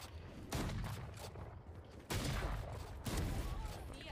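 Valorant shotgun fire in a match: three heavy broadband blasts in quick succession, each sustained with a booming low end, loud and close, mixed with game sound effects and a player's voice talking.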